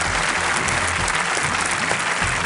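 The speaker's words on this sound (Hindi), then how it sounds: "तालियों के साथ इनका स्वागत सर।" A studio audience at a quiz show applauds to welcome a contestant to the hot seat, a dense, continuous wash of clapping at steady loudness throughout.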